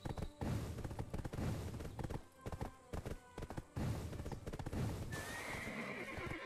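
A horse in the video game Black Desert whinnies loudly and its hooves clip-clop in a quick repeated rhythm, with a few booming impacts mixed in and brief talk in the background.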